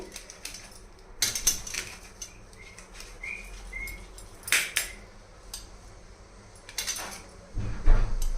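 Dried fish is cut into pieces in a kitchen: a few scattered sharp knocks and chops, close by, separated by quiet stretches with faint household background.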